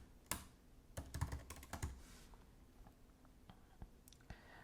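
A password typed on a computer keyboard while setting up a home security camera: a quiet cluster of key taps, denser at first and then sparse, close by with no talking.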